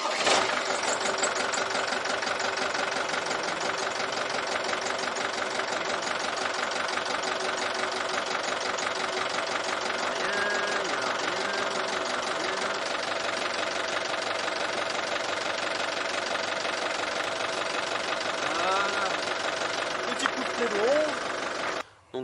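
A Ford Transit van engine, in a garage after brake pad, disc and hose work, runs at a steady idle close by for the whole stretch, its even rumble continuous with faint clicks and a voice speaking over it.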